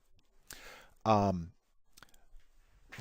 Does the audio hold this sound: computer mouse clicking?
yes